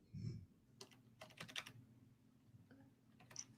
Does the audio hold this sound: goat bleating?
no